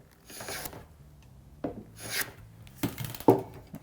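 Short strokes of a hand plane shave a wooden cabinet block, producing three or four brief, close swishing rasps spaced by quiet pauses.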